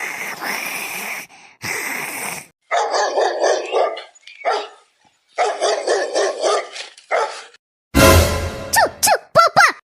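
A cartoon street dog barks right up close, loud repeated bursts of barking with short pauses between, ending in a quick run of yips and higher whines.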